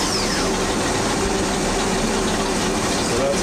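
Water rushes steadily through a running swapped Mercruiser sterndrive boat engine, a constant close gushing hiss with a faint engine hum beneath.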